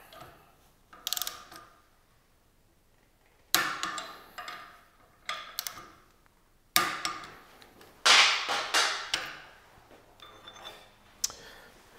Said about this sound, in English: Now back into the rod vise, torque the rod bolts down.